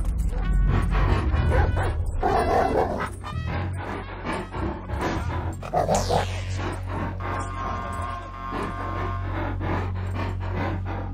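A dog in the GTA 5 video game barks, yips and whimpers repeatedly and loudly over a game's music and rumbling background, with excited barks coming in quick bursts throughout.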